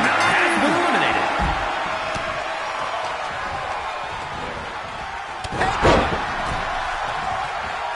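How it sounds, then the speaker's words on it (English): Heavy body slams and thuds from wrestlers driving opponents face down in a wrestling video game, with one strong impact near the end, under crowd noise and a commentator's voice. "Shot after shot, they're slamming their face down."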